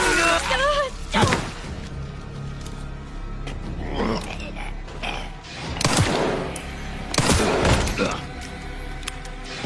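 Gunfire rings out while shooting a zombie in the video game Resident Evil Requiem: several sharp, loud shots and thuds come in bursts a few seconds apart, with someone talking in between.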